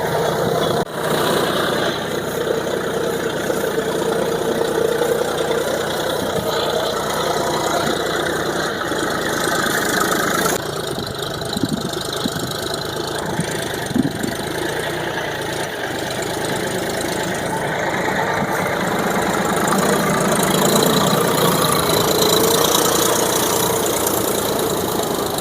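A John Deere 5050D four-wheel tractor engine chugs steadily while ploughing a field, a loud, continuous diesel drone with a knocking rhythm and small shifts in load.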